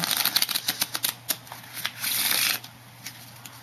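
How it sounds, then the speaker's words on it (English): Playing cards riffled in quick bursts of crisp flapping and snapping, followed by a longer continuous riffle, close and fairly quiet with no talking. "I'm just gonna give it a couple of shuffles."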